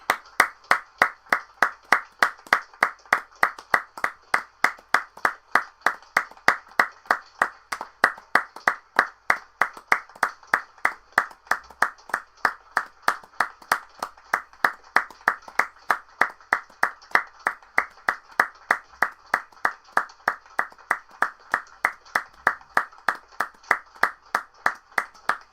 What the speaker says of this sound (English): please join us in a minute's applause for Jack Charlton